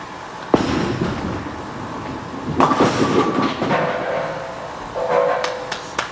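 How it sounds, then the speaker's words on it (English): In a bowling alley on a house shot, a ball rolls down the lane toward the 10-pin with a steady low rumble, followed by the clatter of pins, while alley noise carries on in the background. "So I'm going to go to 33 with my strike ball and go to the 10-pin"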